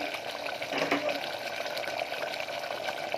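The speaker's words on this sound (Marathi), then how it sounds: "अर्धा ग्लास चिकनमध्ये गरम पाणी टाकून घेऊया" Half a glass of hot water poured into chicken sitting in yogurt juices in a pressure cooker for a green-masala chicken curry, a steady close splashing and trickling that runs the whole time with faint kitchen background.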